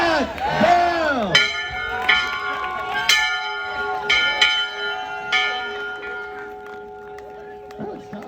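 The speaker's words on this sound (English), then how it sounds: "Ring that bell!" A bell rung in celebration of a college acceptance, several loud ringing strikes in sequence with long sustained tones, while a crowd cheers and voices shout in the opening moments.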